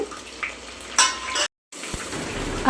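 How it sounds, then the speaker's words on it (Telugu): Cumin and fenugreek seeds crackle in hot oil for a mango pickle tempering, a steady broadband sizzle with a few sharper spits and a short dropout midway. "వేడి అవుతున్న నూనెలో వచ్చేసి మనము జీలకర్ర మెంతులు"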